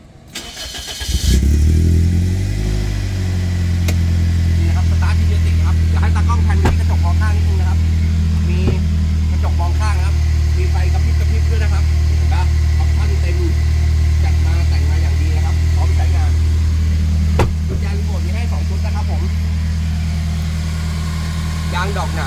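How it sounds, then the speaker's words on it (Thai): A Toyota Corolla Altis 1.8 G engine catches and then idles steadily, a low even rumble that holds for the rest of the clip with light clicks and rattles. "เดี๋ยวเรามาฟังในส่วนเครื่องยนต์นะครับ"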